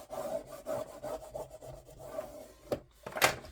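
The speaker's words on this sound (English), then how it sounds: "Let's burnish that tape down a little bit." Tape being burnished onto a Ghosts & Goblins craft album, a steady series of soft rubbing strokes on paper with a couple of sharper swipes near the end, close and quiet with no talking.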